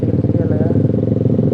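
A motorcycle engine runs steadily and close on a Sunday morning group ride, its throttle held with a rhythmic pulsing drone, and some talk mixed in over it.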